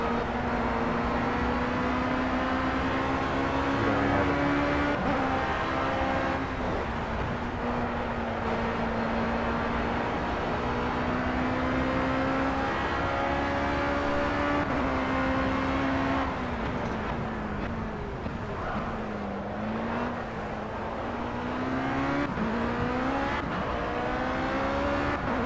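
A race car engine holds a steady, loud drone on the Oulton Park circuit during a 50-mile race, its pitch rising and falling slightly through gear changes and corners for the whole stretch, with no talk.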